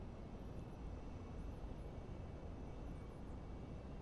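A business jet's engines hum steadily while taxiing in the Prepar3D flight simulator, a constant low, even drone that stays at one level throughout.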